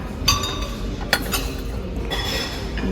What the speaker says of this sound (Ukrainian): Дві великі тарілки.